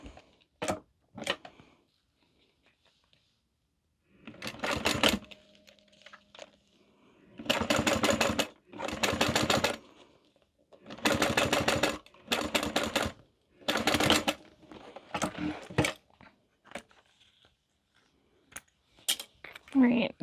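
A sewing machine top stitches a small fabric mini wallet in several short, rapid runs of stitching separated by pauses. The bursts are close and fairly loud, with faint handling noises between them.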